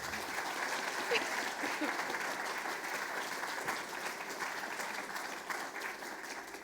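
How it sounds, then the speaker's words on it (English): Sustained applause from an audience at an author panel event, a dense even clatter of clapping that holds steady and fades slightly at the end. "I would like you all to give our writers a round of applause."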